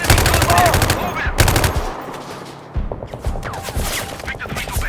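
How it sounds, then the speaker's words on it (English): Gunfire in the sniper video game Sniper Ghost Warrior Contracts: rapid, loud automatic bursts with sharp cracks, a brief lull, then further volleys of shots. "I'm listening to gunshots here."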